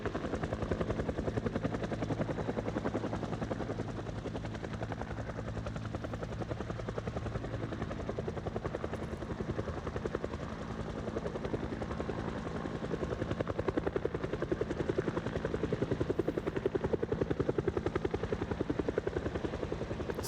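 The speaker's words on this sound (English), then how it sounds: "This is a long heli event." A helicopter in a zombie survival video game drones on with a steady, continuous rotor thrum and engine hum. It stays constant and moderately loud throughout, with no talking.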